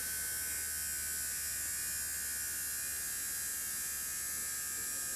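Electric motor spinning at about 4,700 RPM in a split-bank battery-fed asymmetry setup, a steady, quiet high-pitched whine with faint hum, unchanging throughout.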